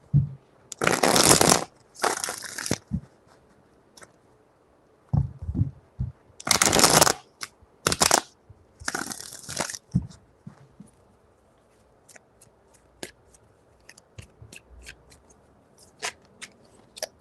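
Tarot cards shuffled by hand in several quick riffling bursts, crisp and close, separated by pauses with light taps and handling noises.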